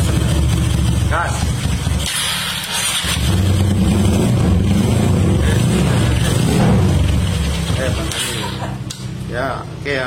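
A Honda Tiger motorcycle with a broken magneto spacer running after repair, its engine idling and rising in revs loud and close, with people talking over it throughout.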